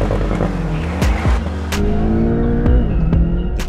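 Porsche Boxster GTS and BMW Z4 M40i drag racing over a standing quarter mile: loud, close engines revving hard with rising and falling pitch sweeps as gears change, tire noise mixed in, no voices.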